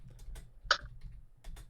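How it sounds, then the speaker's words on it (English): Sparse clicks of typing on a computer keyboard, several separate keystrokes with one louder tap, close and quiet with no talking over them. "Well, I'm typing on this keyboard"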